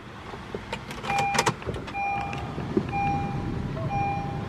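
A 2015 Honda City EX 1.5 Flex CVT is entered and started: door and cabin clunks, then warning chimes and beeps as the engine settles into a steady low idle.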